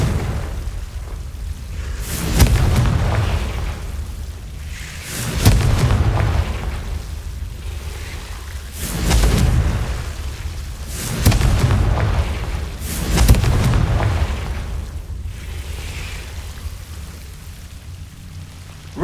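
Confringo fire-blast spells going off in the Hogwarts Legacy video game, a series of about five heavy booming explosions spaced a few seconds apart, each with a rumbling tail over a steady crackling background.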